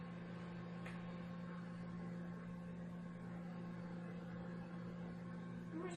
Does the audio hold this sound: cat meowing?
no